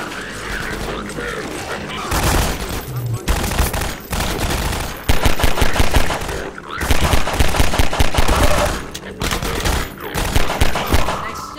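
Rapid bursts of automatic gunfire and heavy shots from the video game Half-Life 2 Episode One, loud and close, coming in clustered volleys separated by short pauses, with some game mechanism noises between.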